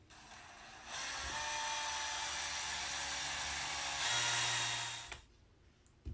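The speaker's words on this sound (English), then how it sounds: "Take your power drill" A power drill drives a screw into an aluminum rod while a poultry grow-out pen is assembled, giving a steady whirring buzz for about four seconds that rises briefly before stopping, fairly quiet and with no talking.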